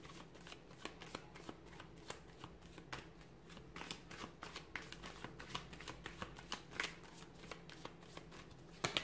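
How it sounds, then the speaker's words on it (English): A deck of tarot cards is shuffled again and again, quiet rapid riffling with sharp snaps and taps in an irregular rhythm, up close. "let's go ahead, get the cards a shuffle"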